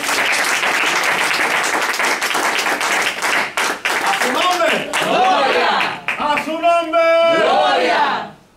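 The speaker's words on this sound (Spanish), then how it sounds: "Denle un aplauso a Dios." A church congregation applauds in steady, dense clapping that carries throughout, with shouting and raised voices of worship joining in toward the end before it fades out.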